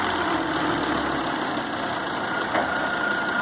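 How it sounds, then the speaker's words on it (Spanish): A worn motorhome engine runs steadily just after starting, an even close idle with a dense mechanical hum and no voices over it. "cuando le damos arranque, por la boca de llenado de aceite, el motor expulsa gases"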